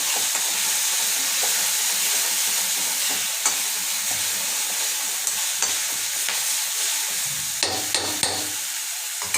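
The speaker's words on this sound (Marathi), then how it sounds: "मिरचीचा आणि लसणाचा जो कच्चेपणा असतो तो जाईपर्यंत आपल्याला वाटण थोडंसं परतून घ्यायचं आहे." Green chili and garlic paste sautéed in a pan, a steady close sizzle with scraping and stirring strokes throughout, no voices.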